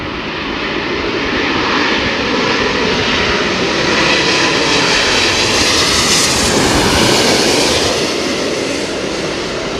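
Boeing 777-200 jetliner with Rolls-Royce Trent 800 engines at London Heathrow, a loud, steady broadband engine roar that swells slightly near the middle, close by and with no voices over it.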